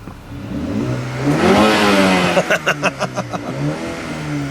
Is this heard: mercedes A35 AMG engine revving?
yes